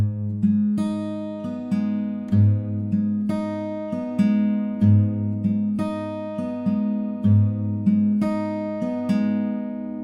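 Fingerpicked acoustic guitar playing the intro to a song from The Last of Us Part II: a repeating pattern of plucked notes over bass notes in a steady rhythm, close and clear with no talking.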